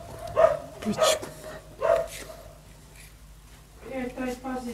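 A dog barks several times in short loud bursts, close by, with someone talking over and after the barks.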